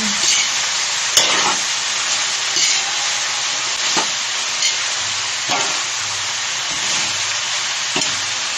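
Cabbage stir-frying in a pan for pancit bihon, with a loud, steady sizzle broken by scraping stirs and occasional clatters of the utensil against the pan, close up.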